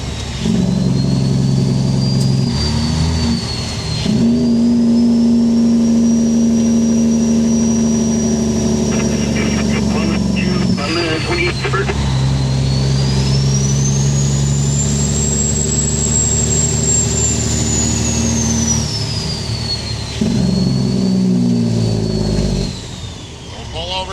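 A vehicle engine drones steadily and close, its pitch easing down and swelling again as it slows for a corner, with a thin whine riding over the rumble.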